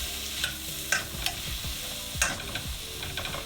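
Spices are stirred in a hot frying pan for a fish curry with coconut milk, giving a steady sizzle broken by a few scraping utensil strokes against the pan, close and without any voices.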